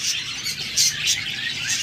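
Albino red-eye budgerigar pair chirping in quick, high, bright bursts that repeat in an uneven rhythm, close and steady, with no voices.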